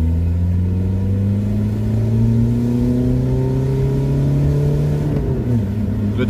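A barn-find car's engine revs as it drives off, its note climbing steadily under load before dropping briefly at a gear change near the end. The drone is loud, close and continuous.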